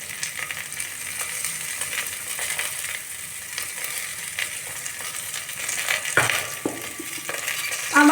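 Onion, capsicum and potato sabzi cooking in a pressure cooker with a little water, a low steady sizzle under occasional scraping stirs that grow louder near the end, with no one speaking.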